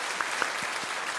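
A congregation applauding a church choir after its performance, a dense steady patter of clapping hands in a large room with a few sharper claps standing out.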